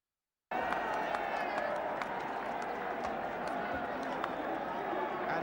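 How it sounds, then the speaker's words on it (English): A large football crowd at Wembley applauds steadily as Manchester United clap Liverpool off after a match, a dense continuous roar of clapping and cheering with a commentator talking over it. "they've done the right thing all afternoon, clapping Liverpool down as a marvellous gesture for what they know to be a tremendous football club"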